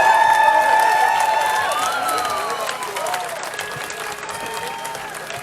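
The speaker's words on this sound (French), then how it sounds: "On l'applaudit très fort!" Loud crowd applause and cheering at an outdoor protest rally in Montreal, starting strong and gradually easing, with whistles and scattered voices mixed into the steady clapping.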